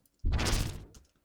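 A recreated Harry Potter-style energy burst effect without EQ, a single dense whooshing burst that swells abruptly and fades into a short tail, loud and close with no voices.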